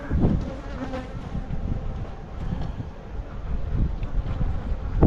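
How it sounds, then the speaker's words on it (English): Summer breeze buffeting the microphone outdoors during a honey harvest among bees: a low rolling rumble that swells and eases, with insects buzzing faintly through it. "We got a good little breeze today, which kind of sucks"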